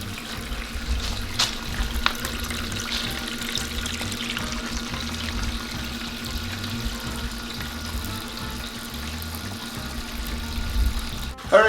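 Water from a 25-foot garden hose runs through a small gold sluice box by the Red Deer River, a steady, continuous rushing and splashing close by with little change throughout.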